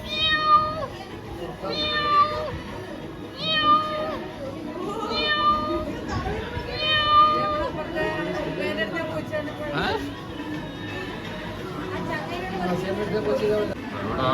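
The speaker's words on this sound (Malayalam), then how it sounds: "ഇത് പേർഷ്യൻ കാറ്റാണ് കേട്ടോ." A Persian cat at a pet shop gives a series of drawn-out meows, repeated every second or so and fairly close, with voices chattering in the background.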